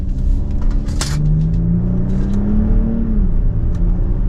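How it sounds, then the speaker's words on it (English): A 2024 Genesis GV80 AWD Prestige Signature SUV accelerates from inside the cabin; the engine drone rises steadily in pitch, then drops back as the transmission shifts, loud and close. "let's give it another acceleration here"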